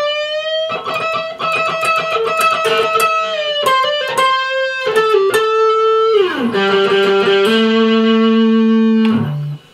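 Electric guitar playing a solo passage, a rapid run of bright distorted picked notes with vibrato and slides, ending on sustained lower held notes before cutting off; loud, close, alone.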